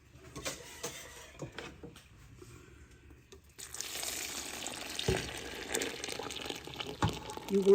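A liquid mixture is poured into macaroni for a Thanksgiving dish, a soft, close splashing and sloshing that starts after quieter clinks and rises into a steady wet pour with a few sharper knocks.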